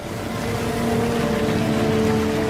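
Several boat motors of a small flotilla droning steadily on a quiet river at night during a wartime raid, a continuous low engine hum with tonal harmonics that grows slightly louder, with no voices.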